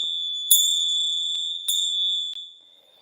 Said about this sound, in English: I'm going to chime the start.